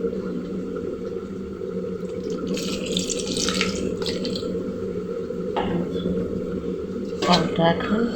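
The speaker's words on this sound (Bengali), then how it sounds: "চালটা এখন ধুয়ে যে আমি এখন চালগুলো নিচ্ছি।" Tap water runs steadily into a pot as rice is washed by hand in a home kitchen, with splashing and sloshing bursts over the flow and someone speaking at times.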